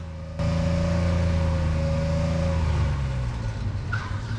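A car engine on a road drones steadily while accelerating to overtake, a loud sustained hum that holds and then slowly eases off, with no talk over it.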